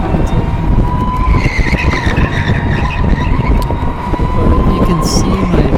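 Go-kart tires skidding and squealing at a K1 Speed indoor track during a league race, a loud continuous screech over engine roar, with a driver's voice faintly audible.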